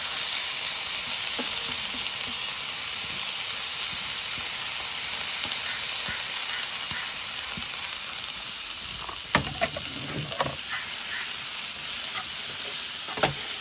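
Chopped onion, carrot and tomato sizzle steadily in a hot pan, a continuous close frying hiss with occasional soft scraping and stirring knocks near the end.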